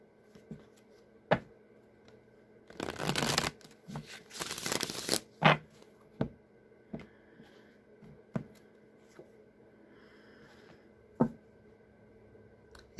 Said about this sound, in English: One more shuffle and we'll cut the deck.